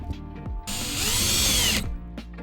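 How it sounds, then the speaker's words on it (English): A power drill drives drywall screws through a flange into a lamp base, one sustained high whine of about a second with motor pitch rising and falling, set between quieter handling knocks. "Then I attach the flange to the base using 4 drywall screws."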